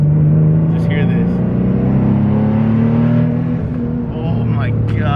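Turbocharged Nissan 370Z engine with issues, rumbling loudly up close with a steady droning tone that rises slightly, then dips and settles, with a few brief rattles near the end.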